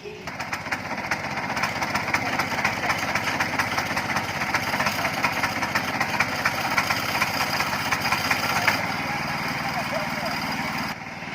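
A power tiller engine runs steadily outdoors with a dense mid-pitched drone that stays fairly even throughout. Voices and background noise sit alongside it.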